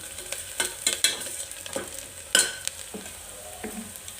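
Turmeric stirred into food in a clay pot, a spoon scraping and clacking in irregular strokes with a few sharp knocks over a faint sizzle, close and fairly loud.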